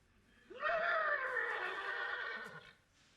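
A voice imitates a horse's whinny, one long, loud, wavering neigh lasting a couple of seconds, close to the listener.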